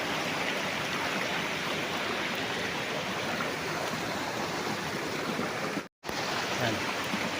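A river flowing past a farm lot in Liliw, Laguna gives a steady, dense rushing wash, moderately loud and unbroken except for a brief dropout near the end.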